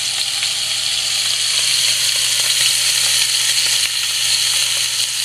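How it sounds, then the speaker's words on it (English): Scallops searing in a hot skillet, left untouched, giving a loud continuous close sizzle with fine crackling spatter throughout. "don't move them, don't flip them, don't shake the skillet. Let them be so they can caramelize as they touch the bottom of the"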